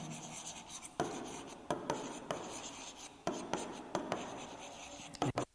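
A pen writes an answer on paper during a math lesson, close, quiet scratching strokes punctuated by several sharp taps, with faint breathy sounds in the background.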